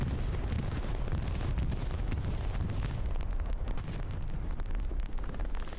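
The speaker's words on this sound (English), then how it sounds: "Here comes a bombing run." Bombing run in the Hell Let Loose war game, dense rolling explosions and booming blasts that carry on without a break, loud and chaotic with no speech.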